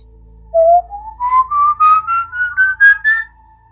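A single person whistles a rising, wavering melody imitating the Silbón, the whistling spirit of Venezuelan and Colombian legend, with about ten distinct clear notes climbing in pitch, close and loud, with no talking.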